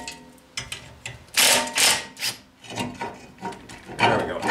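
A brake rotor is worked off the rear of a 2015 Toyota Corolla S, with close metallic rubbing and scraping in uneven bursts, a few sharp knocks, and no talk.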